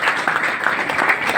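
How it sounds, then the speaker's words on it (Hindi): A seated audience at a gathering claps loudly together, a dense even patter of many hands heard nearby with no voices over it. "एक बार उनके लिए जोरदार ताली।"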